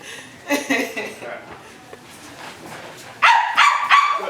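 An actor rehearsing in a theatre acting class imitates a dog with his voice, giving a few loud, close barking yelps in short bursts, with a louder cluster of barks near the end.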